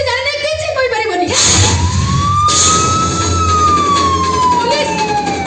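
A loud wailing siren rises and falls close by, heard alone without talk.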